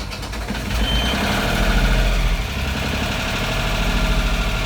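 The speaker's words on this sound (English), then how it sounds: "So I'm now going to start this engine." A boat engine, started with a push-button in neutral with some revs set, runs at a loud, steady, rumbling idle that swells briefly before settling, with no one speaking.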